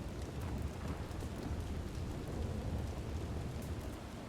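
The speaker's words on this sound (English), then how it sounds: "I've had one of those lightning bolts land close to me. It was unbelievably loud." Thunder rumbles low and steady under dense, continuous rain in a video game thunderstorm, a broad wash of downpour with no speech.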